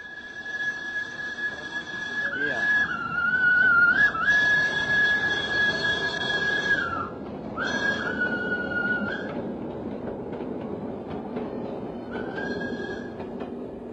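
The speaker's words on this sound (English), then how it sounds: "the steam tram bustled through this little Holland in the tropics" A steam tram in colonial Surabaya passes with a long sustained whistle that wavers and breaks off several times over rumbling, rattling wheels and carriages, loud and close throughout.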